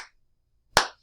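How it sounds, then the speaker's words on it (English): Hand claps keeping a beat during a music lesson, two sharp close claps spaced under a second apart, loud and isolated with no voice. "You notice how I only sang for 2 of those claps or 2 of those beats"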